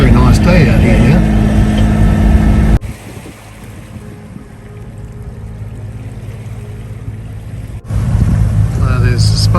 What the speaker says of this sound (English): we've dropped the main and just carrying on under motor